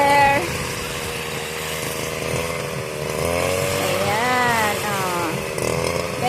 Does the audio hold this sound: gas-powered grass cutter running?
yes